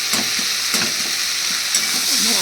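Water goes into a hot pan of onion, garlic and tomato masala for an egg and potato kalia, giving a steady close sizzle broken by a few soft spatula scrapes.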